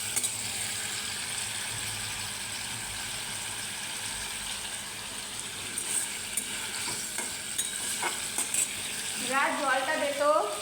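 Vegetable stalks and potatoes frying lightly in a pan, a steady close sizzle with occasional scraping stirs and clicks, busier near the end as something bubbles up.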